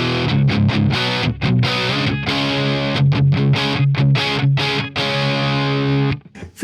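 An electric guitar plays a distorted riff through a Celestion Vintage 30 speaker miked with an SM57, with steady chugging chords and short pauses, loud and close throughout before stopping abruptly near the end.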